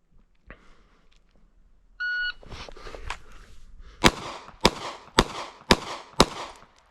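An electronic shot timer gives a short beep, then a Glock 42 pistol fires six sharp, evenly spaced shots at a target on an outdoor range. The shots are loud and close with a short ring after each, and no talking.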